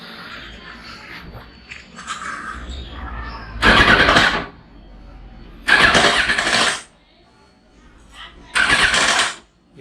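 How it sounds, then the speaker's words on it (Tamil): A Yamaha R1 motorcycle engine cranks and starts in three separate loud bursts, each revving briefly then cutting off, with quieter pauses between. "வண்டியை ஸ்டார்ட் பண்ணி பார்க்கலாம்"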